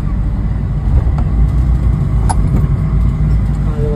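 A car engine rumbles low and steady as the vehicle reverses, a constant close hum with a few faint clicks and knocks and no talking.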